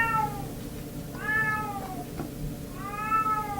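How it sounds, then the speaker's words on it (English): A cat meows loudly three times, long drawn-out yowls separated by short pauses, close by with a low background hum. "As you can hear, I got a cat yelling."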